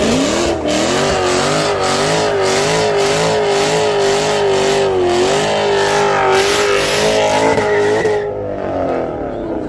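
A GT 500 street racing car at the Yellow Belly Strip roars loud and close, its engine revving and wavering in pitch for several seconds before cutting off abruptly, while voices talk nearby.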